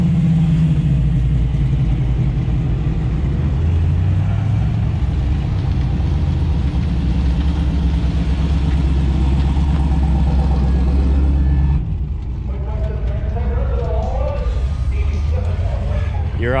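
The Sonicstang Mustang drag car engine on a test pass drones loudly and steadily for about twelve seconds, then drops away as voices talk over the quieter remainder.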